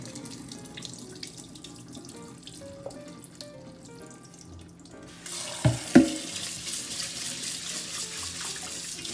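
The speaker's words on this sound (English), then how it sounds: "Let me throw away the water." Cloudy rice-washing water is poured out into a kitchen sink while making sushi rice, a sudden rushing splash about halfway through after a quiet room hum, with a couple of louder gushes then a steady close trickle.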